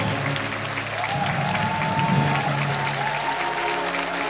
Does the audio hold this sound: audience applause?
yes